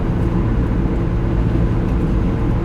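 Steady, loud low rumble of a car driving, heard from inside the cabin, with constant engine and road noise and no talking.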